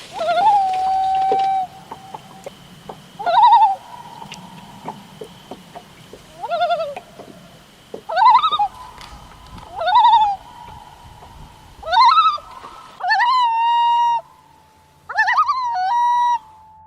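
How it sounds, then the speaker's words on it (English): A common loon gives its wailing, tremolo calls, a series of drawn-out quavering notes repeated roughly every two seconds, clear and fairly close against a quiet outdoor background. "The following sound is that of a common loon"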